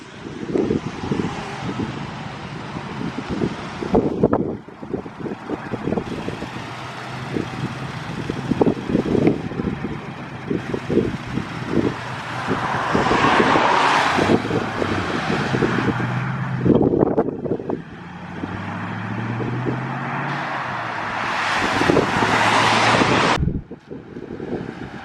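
An MG TF sports car driving away from a classic car show, engine passing in surges alongside other departing cars, heavy wind buffeting the microphone throughout, no talk.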